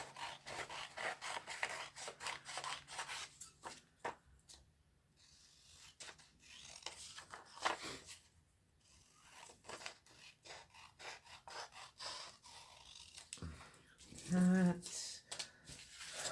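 Scissors cut through paper for a paper-bag junk journal cover. The soft, rhythmic snipping and rustling is faint and close, with brief pauses between cuts.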